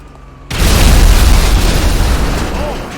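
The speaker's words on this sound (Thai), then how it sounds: "เอาระเบิดนี้ดีกว่า" A bomb detonates in GTA V Online: after a brief quiet lead-in, a sudden loud booming blast erupts and rolls on as a heavy rumbling roar that slowly fades.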